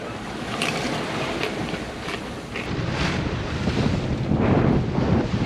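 Strong wind gusting across the microphone with rushing waves and surf as a sailboat pushes through stormy weather, a continuous loud roar that swells toward the end.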